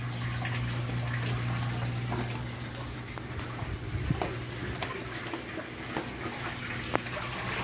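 Kalk slurry water pumped through a reef aquarium system runs in a steady low gurgling rush with light dripping and splashing, close and continuous throughout.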